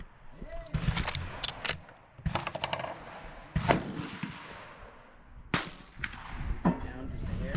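A 6.5 Carcano rifle fires Steinel Ammo FMJ rounds outdoors, several sharp loud cracks spaced a second or two apart, each with a short echoing tail, with some speech between shots.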